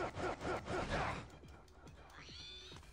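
A cat meows several times, short yowling calls in a quick series followed by a rising mewl, fairly close and loud, with a faint gasp-like breath between.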